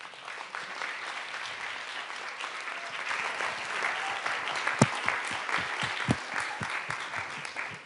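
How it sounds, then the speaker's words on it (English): Warm applause from an audience at a United Nations youth event, a steady wash of many hands clapping for nearly eight seconds, with a few sharper individual claps standing out near the end. "let's give a warm round of applause"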